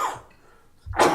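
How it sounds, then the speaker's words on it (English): Two short, sharp coughs from a person at a city council meeting, close and loud, separated by a brief quiet gap. "I got a cough."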